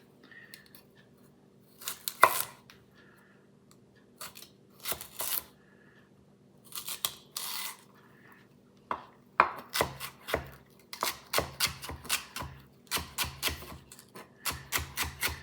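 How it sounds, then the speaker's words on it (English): A knife dices celery on a cutting board, starting with scattered single cuts and then quickening into a fast, rhythmic run of crisp chops close by, with no talk. "And there's your diced celery."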